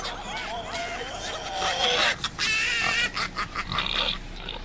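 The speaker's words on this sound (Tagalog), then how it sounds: "Ay, may baboy." Grunting pig oinks sound repeatedly amid background chatter and laughter, the snorts coming in short bursts over a busy, noisy room.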